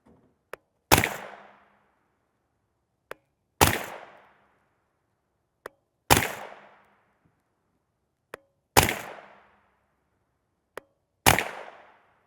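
A Palmetto State Armory AR-V9 blowback carbine fires 9mm 115-grain EcoBullet rounds: five sharp, loud single shots spaced about two and a half seconds apart, each with a short decaying echo and a faint click between shots.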